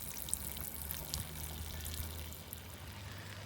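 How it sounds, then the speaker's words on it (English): Pink antifreeze trickles and splashes steadily from the opened low drain points of a NuCamp Tab 400 camper trailer, a faint continuous watery patter with scattered drips over a low background hum. "I'm going to start by going ahead and opening my low drain points. That'll go ahead and allow any pink fluid to start draining out."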